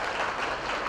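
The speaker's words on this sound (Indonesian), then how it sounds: "Beri tepuk tangan buat Tuhan kita." A church congregation claps for God during a sermon by Reverend Kenny Tham, a brief burst of loud, dense clapping filling the room with no talk over it.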